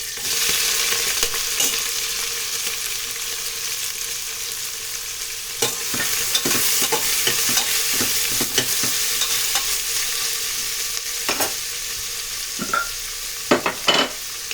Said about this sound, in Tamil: இப்போ 150 கிராம் வெங்காயம் சேர்த்துக்கலாம்.